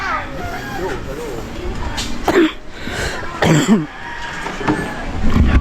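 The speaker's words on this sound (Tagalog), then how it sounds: "My goodness tong ubo na to." Two harsh coughs, one in the middle and a longer one soon after, close by, over steady background noise and faint distant chatter.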